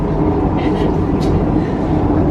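A steady low rumble fills the interior of a moving Malaysian electric train bound for Ipoh, with faint brief voices passing over the continuous rolling drone.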